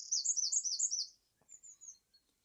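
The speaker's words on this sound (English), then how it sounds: "the bear heard a bird singing so beautifully" A small willow-wren gives a fast, high, warbling song, one bright rippling phrase that fades out and is followed by a few softer notes, heard alone and fairly faint.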